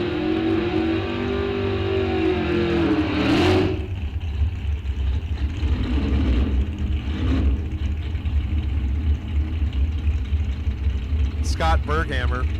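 A throttle-stopped 1967 Camaro drag car at a bracket-series raceway revs with a loud, steady engine drone, rising and swelling near the start, with a brief sharper burst near the end and a voice talking over it throughout.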